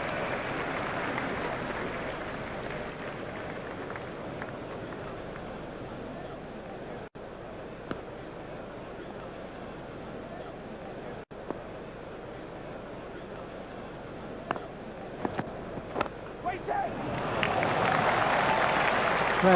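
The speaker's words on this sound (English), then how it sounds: "The crowd were brought to their feet by that shot." A stadium crowd in EA Sports Cricket 2002, during an India vs Kenya World Cup match, applauds and cheers. The noise is loud at first, fades to a low murmur, then surges again near the end.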